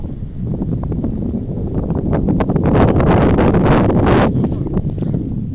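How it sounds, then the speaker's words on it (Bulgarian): Gusts of wind at an airfield buffet the microphone with loud, rough rumbling that swells and eases in uneven surges. "Да, има поривчета."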